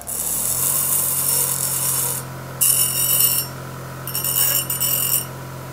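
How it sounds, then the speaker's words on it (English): A cut foam-core wing part is deburred by hand filing, with three close bursts of bright, hissy rasping strokes separated by short pauses, over a steady low hum. "Now I'm going to deburr it real quick."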